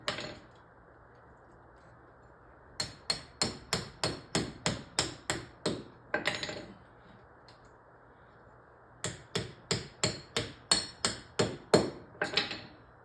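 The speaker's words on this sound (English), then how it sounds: "leave the nut on and tap it into the floor with a hammer" A hammer taps a winch anchor bolt, nut still threaded on, down into a shop floor: about ten sharp, evenly spaced metallic strikes, a pause, then another run of similar blows, close and alone.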